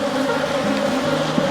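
Honey bees hum in a steady, continuous drone around an open hive during an apiary inspection, the sustained buzz staying loud and unbroken throughout, with no talking.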